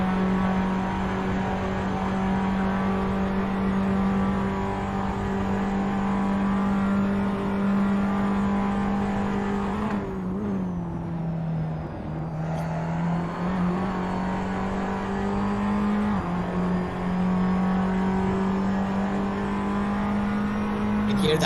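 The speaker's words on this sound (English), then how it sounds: "These have electronic shifters, but you can still hear the gears as they go up. Each one as they pick up the speed." A circuit race car with electronic shifters in a qualifying session revs hard on the main straight and climbs through its gears, with a brief dip in engine note mid-run before it pulls on loudly and steadily.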